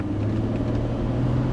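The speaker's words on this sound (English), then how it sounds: "When I let go, the engine restarts." The V6 engine of a 2007 Honda Accord Hybrid restarts after an automatic stop, then settles into a steady, low idle rumble heard from inside the car, smooth and even with no talking.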